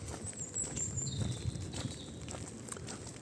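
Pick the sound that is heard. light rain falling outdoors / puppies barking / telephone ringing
light rain falling outdoors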